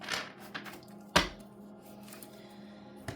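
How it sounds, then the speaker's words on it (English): Tarot cards being shuffled by hand, quiet scattered taps and clicks of card stock with one sharp, brief riffle burst, close and soft with pauses between movements. "I am going to shuffle on this one."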